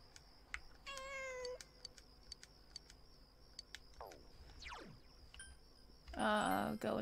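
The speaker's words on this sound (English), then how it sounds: "I'm gonna check if the cat dude is willing to pet the cat again." A cat in Persona 4 Golden gives a single short meow early on, then later a louder, rougher cry, over steady ambient game noise with a few sweeping tones and clicks.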